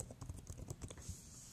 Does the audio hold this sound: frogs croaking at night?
no